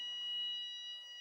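A fire alarm sounds during a programming talk, a steady high-pitched electronic tone holding for just over a second, fairly faint and alone with no talk over it.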